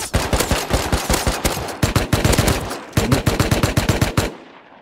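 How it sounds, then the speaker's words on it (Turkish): MP5 submachine gun firing in the survival game Rust, loud close rapid bursts of automatic shots with brief pauses between strings, ending abruptly. "MP5 soldan atıyor."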